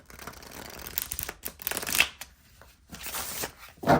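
Close riffle shuffles of a tarot card deck come in several bursts, crisp and fairly loud, separated by short pauses.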